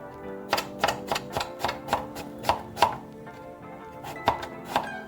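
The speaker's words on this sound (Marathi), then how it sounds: "लाल भोपळा आहे तो चिरून घेते" Red pumpkin is chopped with a knife on a board, about a dozen sharp, evenly spaced thunks in a quick steady rhythm, close and clear with no talking.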